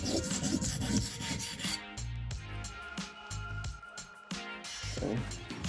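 A Leatherman Rebar knife blade is sharpened to raise a burr, with repeated rasping strokes of steel across a sharpening surface, close and clear, in an uneven rhythm of several passes.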